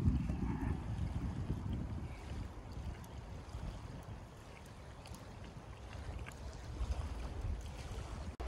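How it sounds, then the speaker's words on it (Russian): Strong wind blowing outdoors beside the Chernaya river near Sysert on a warm autumn day, a steady low rumbling rush with gusts buffeting the microphone and no speech. "Снова ветер сильный поднялся."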